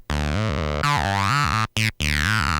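Behringer TD-3 synthesizer with its filter cutoff being swept, giving a loud squelchy, rippy sequenced bassline whose tone opens and closes across short repeating notes, with no voices over it.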